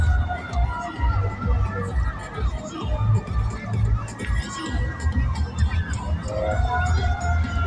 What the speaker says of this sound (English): Now it's famous for sirens.